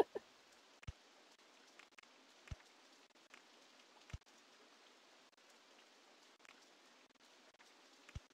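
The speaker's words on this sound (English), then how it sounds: "It's just rain." Rain ambience from RollerCoaster Tycoon plays as a soft, steady hiss at low volume, with scattered faint drop-like clicks.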